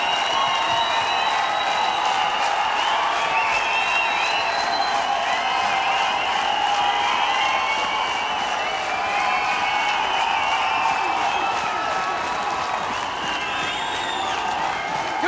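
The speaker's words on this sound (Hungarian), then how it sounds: "Ez a kolozsvári taps." Sustained applause from a big festival audience at a live concert during the Hungarian Days in Cluj, 2019. Dense clapping mixes with cheers, whistles and scattered shouts, staying loud and steady from start to finish.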